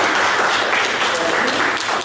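A classroom group bursts into steady applause, a dense, continuous patter of many hands clapping at once that carries evenly through the whole stretch with no voices standing out.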